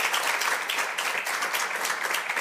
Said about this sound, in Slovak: zaslúži si obrovský potlesk